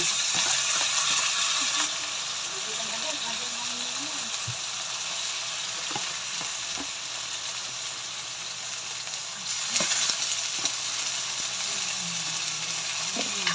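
Meat sizzles in hot oil in a pan after onions have been sautéed, a steady bright crackling hiss throughout with occasional scraping and stirring clicks from a utensil, close and fairly loud.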